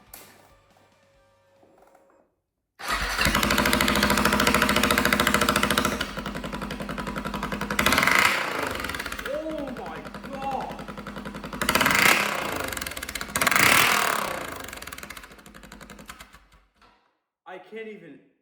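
A Kawasaki KX250 dirt bike with a funnel on the exhaust fires up and roars loudly nearby, revving up and down in several bursts before cutting off.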